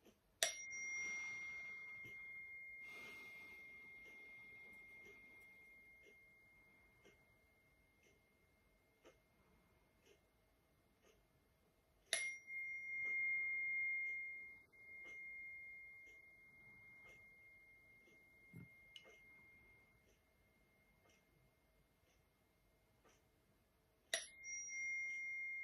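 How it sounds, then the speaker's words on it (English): Chimes struck to clear the energy before a healing prayer, rung in three widely spaced rounds, each a bright metallic strike that rings on and slowly fades in a quiet room. "I'm going to do a few chimes just to clear the energy"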